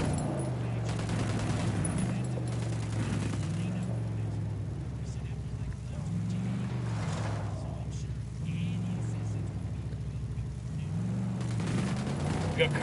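Gunfire from a video game cartel snatch-and-grab mission, bursts of shots crackling throughout over a steady low vehicle engine hum, with talk running beneath.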